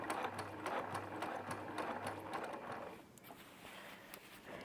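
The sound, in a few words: sewing machine stitching quilt pieces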